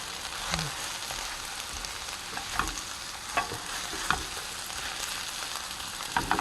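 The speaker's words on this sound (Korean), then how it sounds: "백기름을 듬뿍 넣고 파기름을 만듭니다." Scallions frying in a generous pour of perilla oil to make scallion oil, a steady low sizzle with faint stirring scrapes and a few sharper spatters, close and fairly quiet, no talking.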